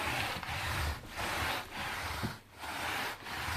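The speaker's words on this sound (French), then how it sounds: "il faut brosser comme ça." Vacuum cleaner brush scrubbed back and forth across a carpet or rug, a loud continuous rubbing swish in rhythmic strokes with short pauses between them, close and alone.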